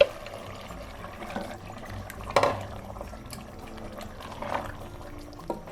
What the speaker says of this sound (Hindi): पालक में पानी इतना डालना है कि पालक अंदर डिप हो जाए